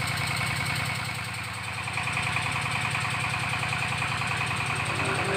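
Diesel engine idling steadily at a deep well drilling site, a continuous mid-pitched rumble with a regular throbbing pulse, loud and close, running alone without talk.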